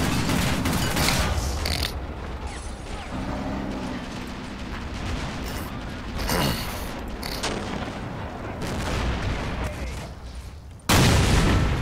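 Heavy mortar firing in the Men of War Assault Squad 2 war game, with a steady din of artillery booms and gunfire throughout and a loud blast near the end.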